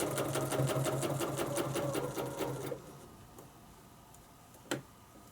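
A domestic sewing machine stitches a quilting line with a ruler foot, running in a steady rapid mechanical chatter for under three seconds before stopping, followed by a quiet pause and a single faint click.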